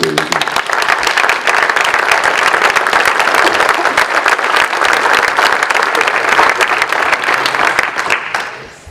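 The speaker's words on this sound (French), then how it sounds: "je pense qu'on peut les applaudir" A room of local officials and attendees at a senators' debate meeting in Morbihan applauding, loud, dense clapping that holds steady for several seconds before fading out at the end.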